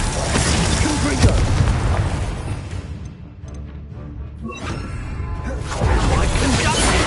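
Confringo fire spell explosions in Hogwarts Legacy, with loud booming blasts and crashing bursts at the start and again near the end, separated by a quieter stretch of game ambience.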